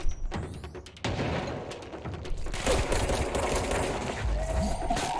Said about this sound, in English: Oh, that was a gun.